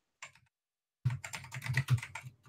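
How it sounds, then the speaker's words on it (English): Keyboard keys clatter in a fast, dense burst of typing on an open online debate call, starting with a brief tap, then a pause, then continuous close clicking. "Who's typing?"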